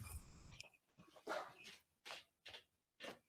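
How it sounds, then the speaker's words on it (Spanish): A dog barks in the background during an online data science class, giving several separate yips and barks at a steady pace that sound distant and faint. "Qué cosa este perro."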